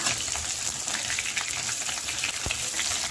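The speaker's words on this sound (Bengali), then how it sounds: "ফুলকপি ভাজা হচ্ছে" Cauliflower pieces fry in a pan of oil at home, giving a steady close hiss and crackle with one brief knock partway through.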